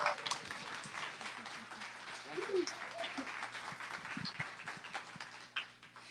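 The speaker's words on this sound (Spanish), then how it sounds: "Quiero pedirles también, por favor, un aplauso para el maestro Jorge García Montemayor en la guitarra." An audience applauds a guitarist at a poetry event, with steady, moderately faint clapping that continues throughout, mixed with light voices in the room.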